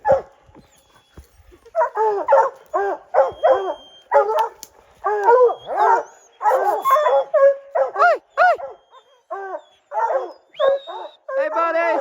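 Hunting hounds on a snowy spring bear hunt in Utah, barking, yipping and whimpering close by in rapid, excited bursts, with a person's voice talking among them.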